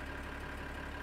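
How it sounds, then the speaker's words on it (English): A tractor engine idles steadily in Farming Simulator 2013, a constant low rumbling drone at moderate, even volume with no talk over it. "this is another great tractor that we're going to be using"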